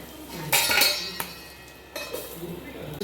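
A metal lid set down onto a cooking pan of garlic-tempered green chillies, two sharp clanks about a second apart with a softer clink between, ringing briefly against a quiet kitchen background.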